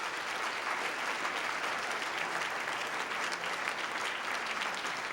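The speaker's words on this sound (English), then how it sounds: "We should applaud them," An audience applauds during a speech, a dense, continuous wash of clapping that holds steady throughout without any voices rising above it.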